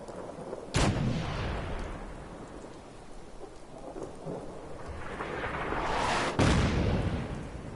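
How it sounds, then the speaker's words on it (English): Artillery strikes in the video game Fallout 4 land as two heavy booming explosions several seconds apart, each followed by a long rumbling roar that trails off, with no talking. "And that is what artillery looks like."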